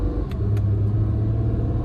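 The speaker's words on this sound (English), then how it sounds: "let's go ahead and take this 2019 Acura NSX out on the road for a test drive" A 2019 Acura NSX Sport Hybrid cruising on a road in quiet mode gives a steady, low cabin rumble with engine and road noise, a couple of faint brief ticks, and no talking.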